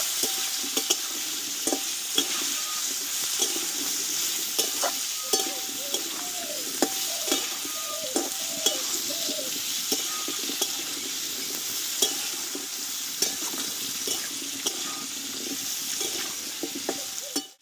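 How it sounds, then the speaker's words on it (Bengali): Raw mango pieces frying in oil with turmeric for a pickle, giving a continuous bright sizzle with frequent small pops and occasional clinks of a spoon stirring, close and steady throughout. "এখানে কেটে রাখা আমগুলোকে দিয়ে দেবো দিয়ে তেলটা একটু আমি আমটাকে ভেজে নেব"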